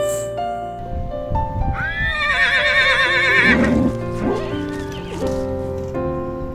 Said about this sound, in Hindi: शाम होते होते ये घोड़े हमारे टेंट के पास आ गए थे